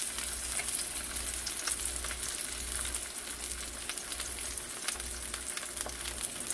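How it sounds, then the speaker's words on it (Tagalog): Mushrooms fry in hot sesame oil in a pan, a steady close crackling sizzle with faint stirring scrapes and no talking. "I'll cook the mushroom first."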